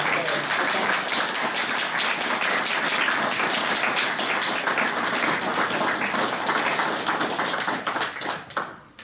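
A large audience applauds loudly and continuously at an award presentation, dense clapping that holds for about eight seconds before fading out at the end.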